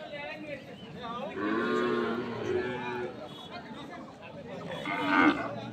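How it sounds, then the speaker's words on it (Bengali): Sahiwal breed bull calves at a cattle market give long, loud, drawn-out moos, one swelling call followed by a shorter bellow, close up amid crowd chatter. "আপনারা দেখছেন এখানে যে সাইওয়াল জাতের বাছুর গরুগুলো প্রায় বিক্রয় করা হচ্ছে"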